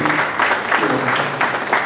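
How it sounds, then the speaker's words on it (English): A conference hall audience at a power-sector dialogue claps loudly and steadily, a brief dense burst of applause with no other sound. "I think we can applaud that"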